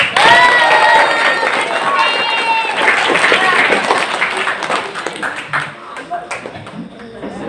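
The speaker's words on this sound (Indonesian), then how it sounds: "Sekali lagi beri tepuk tangan yang meriah." Audience applause for a candidate at an OPPNQ chairman candidates' vision and mission event, a dense, loud wash of clapping with some cheering that slowly thins and breaks into scattered claps toward the end.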